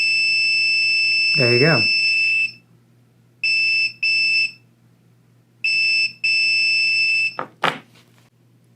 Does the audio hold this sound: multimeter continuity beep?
yes